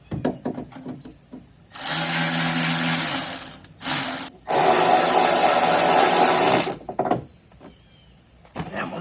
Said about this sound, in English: See if we can get the sheet metal screws back in it.